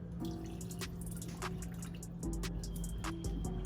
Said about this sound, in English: add our water